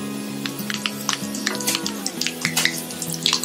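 Dried red chillies and mustard seeds fry in hot oil in a pan, giving close, continuous crackling and sputtering with sharp pops scattered throughout, over a low hum.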